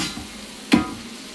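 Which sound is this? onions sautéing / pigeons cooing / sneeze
onions sautéing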